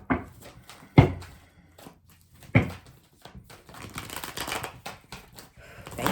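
A deck of tarot cards being shuffled by hand in several bursts, sharp riffling slaps and flutters close to the microphone, with quieter shuffling pauses between them.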